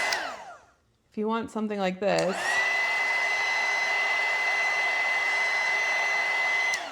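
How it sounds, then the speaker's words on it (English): A heat gun blowing over wet watercolor paint, starting with a brief rising whine as it spins up, then holding a steady loud whirring drone with a high tone on top. "if you start using the heat gun, it is going to move that around"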